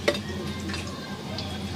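Mustard seeds drop into hot oil in a pan, giving a brief clatter followed by a soft, steady sizzle with faint light ticks, fairly quiet and without talk.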